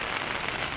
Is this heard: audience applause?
no